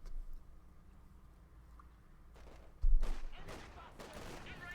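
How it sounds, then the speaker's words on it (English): Gunfire bursts in a Company of Heroes 2 battle between Wehrmacht and British forces, machine guns trading fire, low battle rumble at first, then a loud cluster of shots and rattling bursts in the second half. "Machine guns into the Ostrom with their own machine guns"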